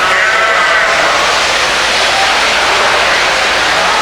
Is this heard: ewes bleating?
yes